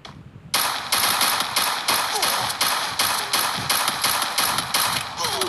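Rapid bursts of automatic gunfire from a teammate shooting in a video game, loud and steady with repeated sharp taps throughout.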